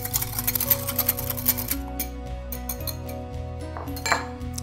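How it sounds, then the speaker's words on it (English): Egg white being whisked in a bowl for soft pretzel dough, a rapid run of light metallic ticks and clinks over a steady background hum, then a slower, quieter stretch, near and alone without talk. "then we're just gonna whisk our egg white a little bit to kind of separate it"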